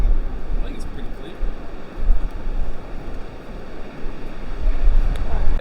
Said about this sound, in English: The wind is pretty relentless though, and it chills it down a fair bit.